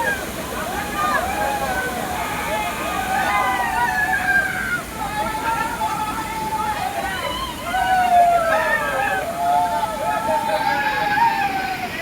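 Kumbhe waterfall near Manjurne village in Raigad district, rushing and sloshing as a steady, loud wash of falling water throughout, with a crowd of people chattering over it.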